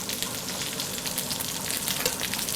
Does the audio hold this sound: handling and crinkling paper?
no